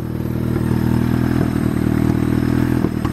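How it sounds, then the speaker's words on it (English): A Vitara with a turbo D16 engine, long out of use, idles loudly and steadily up close, a rough throbbing rumble with faint rattles and clatter layered over it. "the motor sounds really good. We're gonna turn it off. It's pretty loud."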